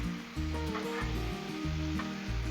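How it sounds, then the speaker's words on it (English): Peppers and onions sizzle on a Blackstone griddle as they are stirred, a close, steady frying hiss with scraping strokes over a low rhythmic thumping hum. "let's stir these peppers and onions up again"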